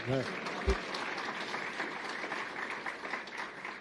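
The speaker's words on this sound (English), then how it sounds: "a big round of applause for former Senator Roy Blunt" Audience applause at a political event in Chicago where a politician speaks, a steady mass of clapping filling the room, with a brief voice and a loud thump near the start.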